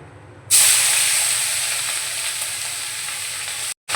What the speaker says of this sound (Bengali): গরম মশলা ফোড়নটা ভেজে নিয়ে দিয়ে দিচ্ছি পেঁয়াজ বাটা